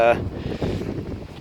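Wind buffets the microphone outdoors as a storm comes in, a rough, gusting rumble that rises and falls under a voice.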